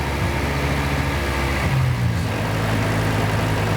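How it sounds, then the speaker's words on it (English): A car engine idles during a cold warm-up with the throttle body held open for a high idle: a steady, close, continuous hum whose low tone shifts down partway through, with no talking. "when the engine's colder, the throttle body needs to be open more to hold an idle"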